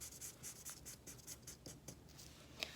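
A crayon scratches rapid short diagonal strokes onto paper while tree lines are drawn, a soft, close, steady rhythmic rasping with no voices.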